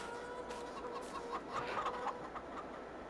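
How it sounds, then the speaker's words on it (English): Chickens in a crowded farm pen in Farming Simulator 22 cluck in scattered short bursts over a low steady background hum, fairly quiet and with no talking. "it's up to 800 chickens now"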